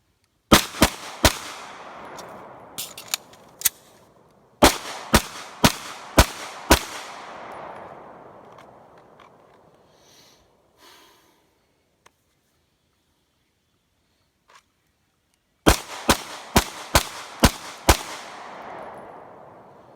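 A Sig P320 pistol fires at a target in two sharp, loud strings of about six and five shots, each crack ringing out with a fading echo, separated by a long quiet pause.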